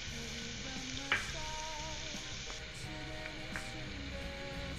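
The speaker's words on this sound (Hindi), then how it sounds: "अब हम इसमें लाल मिर्च पाउडर डालेंगे।" Stuffed tinda gravy fries steadily in a pan as red chili powder goes in, giving a soft, continuous sizzle with a few light clinks and stirring scrapes.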